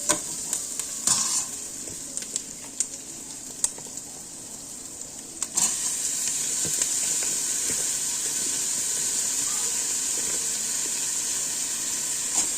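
Broccoli added to a pan of already fried soup ingredients sizzles and steams steadily, with occasional stirring clicks early on and a louder, continuous frying hiss from about the midpoint to the end.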